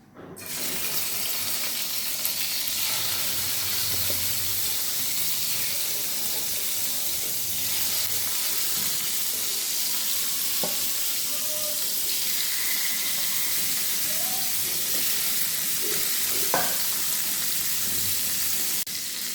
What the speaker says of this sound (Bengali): আমি মাছটা হালকা একটু ভেজে নেব